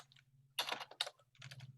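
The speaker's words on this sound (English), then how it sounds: "Let me type this in the chat for you." Quiet keystrokes on a computer keyboard come in two short bursts of rapid clicks over a faint steady hum, with a brief pause between them.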